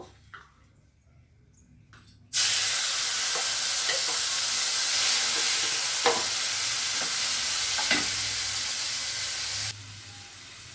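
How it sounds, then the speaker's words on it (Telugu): Raw prawns coated in salt and chilli frying lightly in hot oil, a loud continuous close sizzle with occasional soft clicks of stirring, starting abruptly after a quiet moment and easing near the end. "రొయ్యలు వేగుతున్నాయండి"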